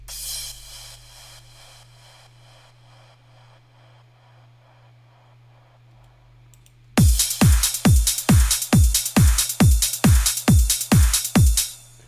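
Quiet hiss and a low hum for several seconds, then a loud electronic kick-and-hat pattern pumps in a steady rhythmic chop, volume swelling and ducking on each beat.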